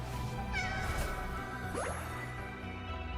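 A cat meows twice within a Wuthering Waves gameplay scene, with short rising and falling cries over steady game music and ambience.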